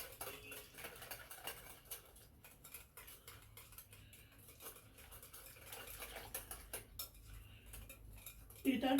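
A spoon stirs chocolate cake batter in a bowl, giving faint, repeated clinks and scrapes against the bowl with low kitchen background and a louder knock at the very end.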